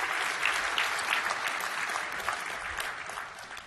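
An audience at a tech conference session claps continuously, a dense, even wash of applause from a sizable crowd that fades slightly toward the end.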